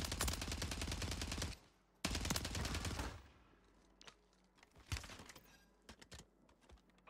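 Rapid automatic fire from the BAS-P gun in Warzone 3, in two long, loud, dense bursts. Scattered single shots and clicks follow, with brief talk after them.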